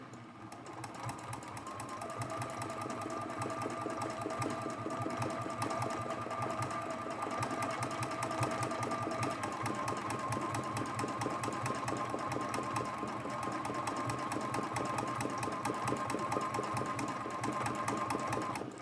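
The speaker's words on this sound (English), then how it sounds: "this is a much faster way to sew down your applique" A sewing machine stitches down fabric applique on a small quilted mug rug, running continuously with a rapid steady needle chatter and motor hum, close and even throughout with no pauses.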